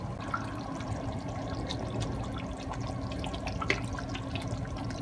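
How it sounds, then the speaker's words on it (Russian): A pot of sweet-and-sour meat with currant jam and honey bubbles on the stove with soft, irregular pops and gurgles over a steady low simmering hiss; no speech. "У меня булькает."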